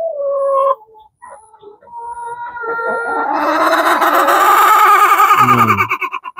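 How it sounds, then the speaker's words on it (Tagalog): Farm chickens cluck and squawk close by, starting with scattered short calls and then swelling into a loud, sustained, agitated cackling that ends in a few pulsing clucks. "Tingnan natin guys yung mga manok natin guys."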